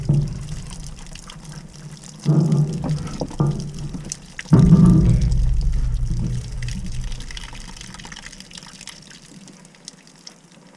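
Dirty water drains out of frozen toilet drain pipes during thawing, gushing and pouring in two louder surges before settling into a steady, fading trickle.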